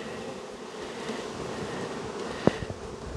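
A soft, continuous buzz of honey bees clustering around a caged virgin queen, with a few faint taps near the end.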